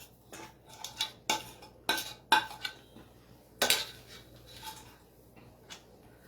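Marinated paneer goes into a pan for a creamy paneer dish, followed by sharp metallic clinks and scrapes of a spoon stirring against the pan, close and uneven, with no voices.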